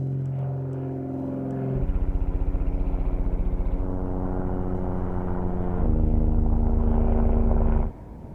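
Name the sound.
Joby Aviation electric air taxi flight noise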